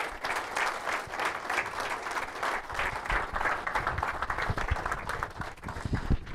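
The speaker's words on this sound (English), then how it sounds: "if everybody can give him one more round of applause" A symposium audience gives a sustained round of applause, dense steady clapping filling the whole stretch with a few sharper nearby claps toward the end.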